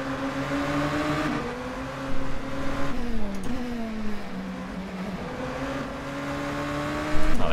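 The turbocharged four-cylinder engine of a Mazda RT24-P DPi race car at Sebring in rFactor 2 drones loudly, its pitch rising through the gears with gearshift drops and a sharp burst of revs at the end.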